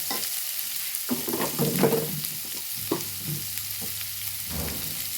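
Sliced onions fry with a pinch of salt in a pan for a chicken and drumstick stir-fry, a steady close sizzle broken by scraping stirs.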